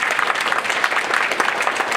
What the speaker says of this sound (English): let's give Alyssa, Jim another round of applause